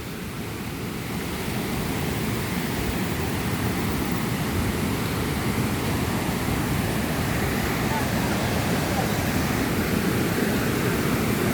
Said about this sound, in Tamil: இதுதாங்க காந்தலூர் வாட்டர் ஃபால்ஸ்